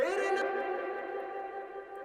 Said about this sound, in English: This is already in the reverb.